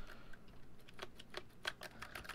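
Rapid typing on a mechanical keyboard, a quick run of crisp, close key clacks with uneven rhythm over a faint background hiss.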